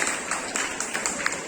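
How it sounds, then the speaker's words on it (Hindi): Applause from an audience at an Independence Day school event, a brief steady burst of many people clapping for a woman who has just spoken. "एक बार फिर से जोरदार तालियां मैडम के लिए"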